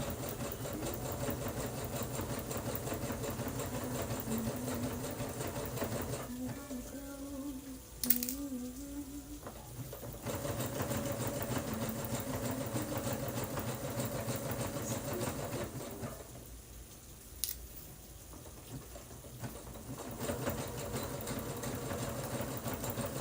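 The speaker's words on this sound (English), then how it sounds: "the sewing machine just sews like butter" A domestic sewing machine stitches fabric for a beret in steady running bursts, with brief pauses between seams and a few sharp clicks, heard close up with no talking.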